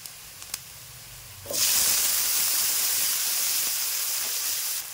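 Tomatoes are added to onions frying in a hot pan, a sudden loud sizzle that erupts and holds as a steady hiss, close and unbroken, after a few small taps.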